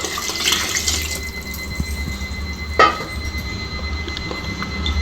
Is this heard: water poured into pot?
yes